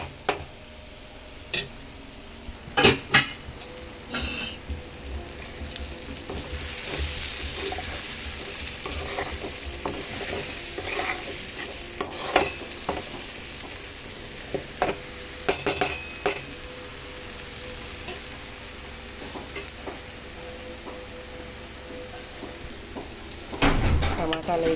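Tomato curry bubbling and sizzling in a pan, a steady low fry broken by scattered clicks and taps of utensils, with a few louder knocks near the end.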